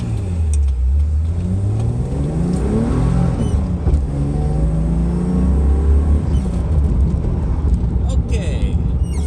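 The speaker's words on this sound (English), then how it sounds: "driving the Datsun 240Z" A 1970 first-generation Datsun 240Z on the road, its engine rising and falling through loud revs and gear changes with a deep, close rumble, plus wind and road noise.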